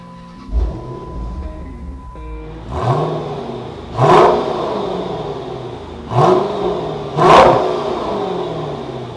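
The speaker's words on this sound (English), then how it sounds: "I want you to hear how great it sounds, especially the upgraded exhaust." A 2010 Dodge Challenger SRT8 with a Hemi V8 and upgraded exhaust idles with a deep rumble, then revs four times in spaced blips, each rising sharply and settling back, heard close and loud.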